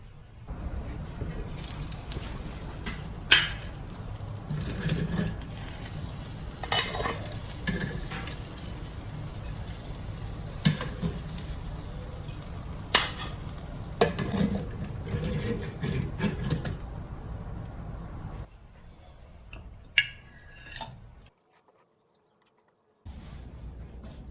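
T-bone steaks basted with butter sizzle on a grill in a continuous close hiss and crackle with scattered sharp pops, then the sizzle drops away to near silence near the end.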